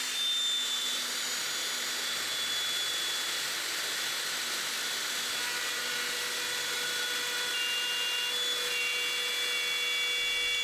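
A router in a router-table lift, driven by an AUK motor and fitted with a bearing-guided bit, cuts a 12 mm rebate in wood. It gives a loud, steady, high whine that runs unbroken from start to finish with no talking.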